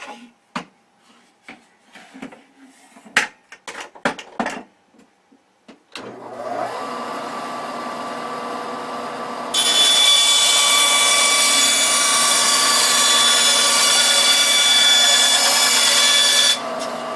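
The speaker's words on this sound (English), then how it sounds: "So I'll cut this now and then we'll sand it up." A power tool cutting a plate for landing gear clips: a few handling knocks first, then a steady motor whir that grows into a louder, harsher cutting roar and holds steady to the end.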